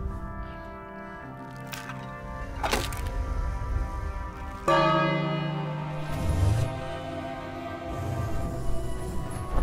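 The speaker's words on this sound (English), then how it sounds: "Alright, ring the bell." A bell is rung in a King's Quest video game, a few resonant metallic strikes with long ringing tails over a low rumbling backdrop, followed by a louder sustained tone and some clattering.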